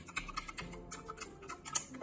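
Keys of an XDK63 60% mechanical keyboard clack in a quick, uneven run of crisp taps, close and fairly quiet, with no talking.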